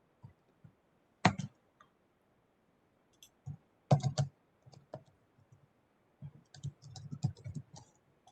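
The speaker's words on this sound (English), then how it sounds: "we can hear you typing" Keys tapped on a computer keyboard during an online programming lesson, scattered bursts of faint clicks with a few louder clusters and short pauses, no voices.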